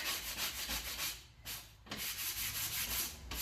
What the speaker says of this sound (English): This way I'm using just the center of the sanding block.